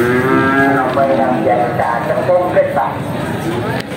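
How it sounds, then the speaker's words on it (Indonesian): Brangus or Brahman cattle low at the Bekonang livestock market, with repeated drawn-out moos close by over steady crowd noise and people talking. "Untuk sapi jenisnya ke arah-arah Brangus ya, Brahman. Ke arah-arah hitam, sapi hitam Brangus."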